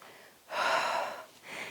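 Breathing in during a Pilates torso twist, a soft, close airy inhale lasting under a second, followed by a shorter second breath, quiet and alone.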